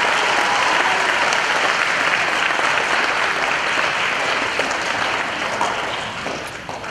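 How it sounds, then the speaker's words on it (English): A school assembly audience claps steadily for nearly seven seconds, a dense, loud, even wash of hands that thins slightly toward the end, with no talk over it. "if we could give the Team Mentoring Committee a round of applause to show our appreciation"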